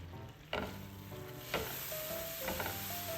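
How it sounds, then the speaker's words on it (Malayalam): Cardamom pods, cloves and cut bay leaves crackle in hot oil as a spoon stirs them, giving a few distinct scraping sweeps over a steady sizzle and a faint tonal hum in the background. "രണ്ട് ഏലക്ക ഇട്ടുകൊടുത്തു രണ്ട് ഗ്രാമ്പു ഇട്ടുകൊടുത്തു ഇനി ഒരു ബേ ലീവ്സ് കട്ട് ചെയ്ത് ഇട്ടുകൊടുത്തിട്ടുണ്ട് ഞാൻ അതിന് ശേഷം ഒന്ന് ഇളക്കി കൊടുക്കാം കേട്ടോ"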